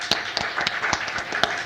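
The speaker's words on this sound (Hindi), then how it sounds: "एक बार जोरदार तालियां हमारे तीनों मेहमानों के लिए" Audience applause for three guests invited onto the stage at a Zee Bharat awards event in London, with distinct, fairly sparse claps ringing out over a steady wash of crowd noise.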